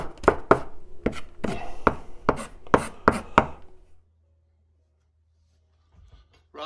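A sharp kitchen knife chops ingredients for an Italian tomato pasta sauce on a board, a quick run of about a dozen crisp, close cuts, then a few seconds of quiet with faint movement at the end.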